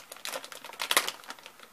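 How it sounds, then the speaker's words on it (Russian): Crinkling of a large sealed plastic packaging bag holding a massage hairbrush, a series of short rustles and crackles close up, with one louder crunch near the middle. "Вот в таком пакетике. Большая. Пошуршим."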